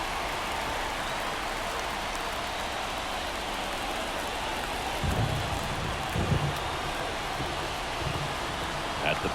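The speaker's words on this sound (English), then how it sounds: "It feels like we might be headed towards a rain delay if the weather doesn't ease up" Steady rain in an MLB The Show 24 baseball game, a constant hiss of falling rain with a few soft thumps, at an even level under faint background sound.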